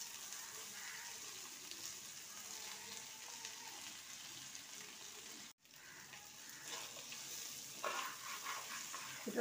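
Potato, carrot, beans and green chillies frying in a pan as they are stirred, a soft continuous sizzle with scraping stir sounds that grow busier near the end, close but fairly quiet.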